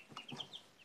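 Week-old golden chicks cheeping softly nearby, several short high peeps scattered across under a second, ending with one louder chirp.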